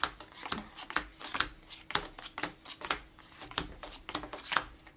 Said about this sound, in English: I don't want to bridge shuffle these, so we're going to do this.